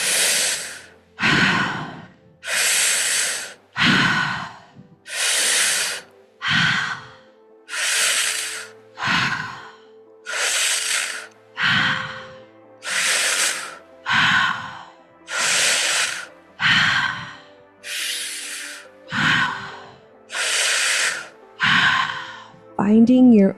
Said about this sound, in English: begin breathing in through the mouth and out through the mouth